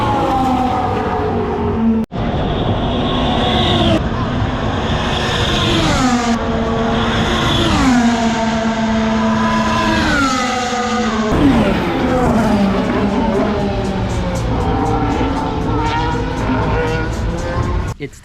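Formula 1 race cars at the Miami Grand Prix, high-pitched engines screaming past one after another with rising and falling pitch sweeps, loud and continuous, heard from the grandstands.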